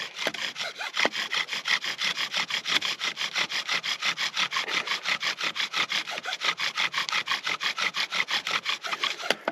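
A bow drill spindle rubbing in a wooden fireboard, spun by a bow in a fast, steady back-and-forth rhythm of dry, rasping strokes, close and loud, with no talk.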